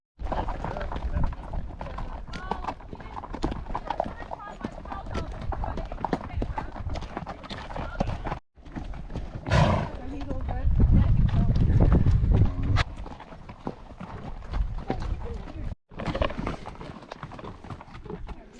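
Horse hooves clip-clop steadily through a trail ride in the Superstitions, with the odd whinny, wind buffeting the microphone and a rider talking over the hoofbeats throughout.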